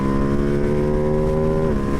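A 2025 Ducati Panigale V2S motorcycle pulls at wide-open throttle, its engine a loud, steady, high-revving drone that holds its pitch before easing slightly near the end.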